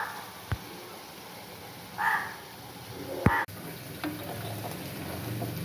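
Tender brinjals frying in a pan for vankayi curry, a soft steady sizzle with a few sharp clinks and scraping stirs of the spoon against the pan, no talking.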